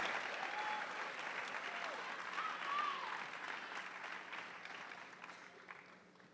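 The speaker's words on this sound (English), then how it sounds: "Let's give a big round of applause to our Wekiva Super Scholars" Audience applause at a school district Super Scholars recognition event, a broad steady wash of many hands clapping that gradually thins and fades toward the end, with faint voices mixed in.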